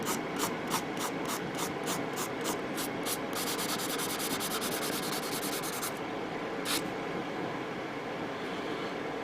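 Fine sandpaper rubs against a hard plastic model kit in quick rhythmic back-and-forth strokes, then longer continuous scrubbing, close up and with no one speaking.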